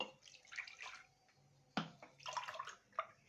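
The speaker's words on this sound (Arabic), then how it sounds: "وبعدين هنحط كوبايتين لبن" Milk being poured from a cup into a dish while making crème caramel, giving two short splashy pours with a brief clink between them, quiet and close.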